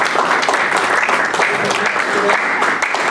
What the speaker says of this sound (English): Your applause isn't going to make my time any shorter